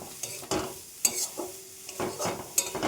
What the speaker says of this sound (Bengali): দিয়ে নারকেলের আগে থেকে গুড় মাখানো, ভালো করে নাড়াচাড়া করে নেব।